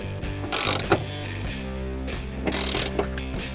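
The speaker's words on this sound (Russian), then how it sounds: "Ну и закручиваем болты на свое место." A ratchet clicks in two quick bursts while driving tail light bolts back into a Nissan X-Trail T31, the close mechanical ratcheting standing alone with no talk.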